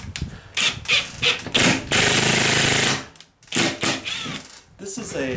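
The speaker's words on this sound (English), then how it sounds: "This is a impact drill." An impact drill drives a screw while an exterior wall sconce light fixture is installed. Loud rattling hammering bursts come close up, with brief gaps between them and speech mixed in.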